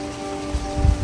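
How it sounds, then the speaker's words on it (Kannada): Heavy rain falls on Waiheke Island as a dense, steady hiss with a few heavier thuds of drops near the microphone. "ಸೊ ಮಳೆ ಜೋರು ಬರ್ತಿರೋದ್ರಿಂದ"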